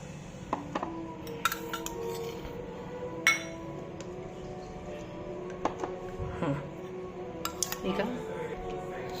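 A spoon taps and clinks against a glass as Rooh Afza syrup is added for falooda, several sharp scattered clinks over a quiet background while a person speaks.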